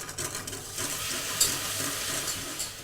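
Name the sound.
pouring cold milk gradually onto a hot roux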